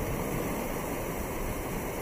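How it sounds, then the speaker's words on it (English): From a Cove balcony cabin low on the Carnival Vista cruise ship, the bow cuts through the ocean in a steady, loud rush of churning water and spray, unbroken and with no voices. "you get to hear the sounds that are made as the bow of the ship cuts through the ocean"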